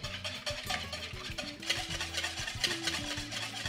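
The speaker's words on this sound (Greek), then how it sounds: "Ανακατεύω καλά με το σύρμα." Eggs with sugar and salt being beaten by hand with a wire whisk, a steady rhythmic scraping and tapping against the bowl, close and continuous with no talking.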